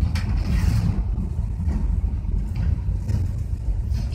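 Short school bus with its exhaust system hooked up, engine running as a continuous low rumble with wind buffeting, heard from inside the vehicle at moderate level with no talk.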